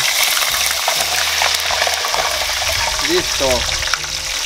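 Steady sizzling of sweet potatoes frying in hot oil fills the clip, a dense crackling hiss, while a person speaks briefly over it.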